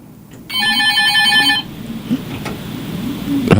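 A telephone rings once in a steady electronic burst as a call comes in on a morning radio call-in show, followed by quieter studio room sound.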